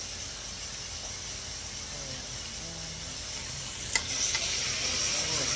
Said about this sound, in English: the steak should be ready, so we're gonna flip it over, and then we're gonna flip the steak.